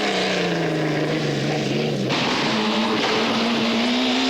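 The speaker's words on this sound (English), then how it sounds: "So too, however, was Jean-Marc Gabin in the old Porsche." An old Porsche rally car races along a rally stage in Belgium, its engine note rising, dropping sharply at a gear change and climbing again, loud, close and continuous.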